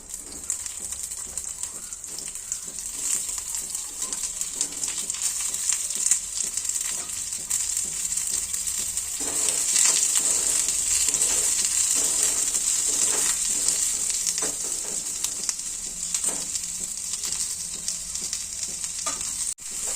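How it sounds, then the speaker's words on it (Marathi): Chopped onion and coconut fry in oil in a kadhai over a raised gas flame, giving a continuous bright sizzle with intermittent scraping and stirring knocks from a utensil, fairly quiet and with no talking. "आपण कढईमध्ये तेल टाकून घेऊन कांदा आणि खोबरं भाजून घेऊया।"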